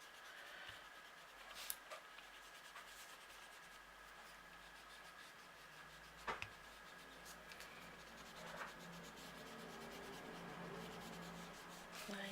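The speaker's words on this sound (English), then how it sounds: "actually, you can rub your pencil line out now. I've got a nice new rubber here." Rubber eraser rubbing out a pencil line on paper during a card-making craft, very faint soft scrubbing strokes repeating steadily, with a few light taps and handling noises.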